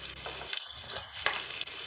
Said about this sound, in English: Into the hot oil, add in the cumin and asafoetida, garlic, ginger, green chili.